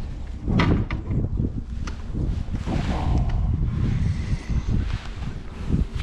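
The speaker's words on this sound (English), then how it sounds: "Dang wind." Wind gusts buffet the microphone on a boat while crappie fishing on muddy water, giving a loud, close, uneven low rumble with bursts and thumps throughout and no talk.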